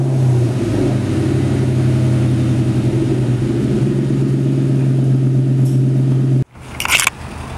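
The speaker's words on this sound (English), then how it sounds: "let's do a cold start." Car engine cold start, a loud steady idle with a deep low rumble running close by, then a sudden cut to near silence and a brief rattling clatter.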